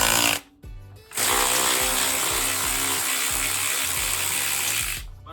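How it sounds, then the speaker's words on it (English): A power tool whirs loudly at steady speed after a brief start-and-stop, spinning continuously for several seconds before winding down, during work on an SR20DET engine for a Nissan S13 Silvia. "So let's use some power tools."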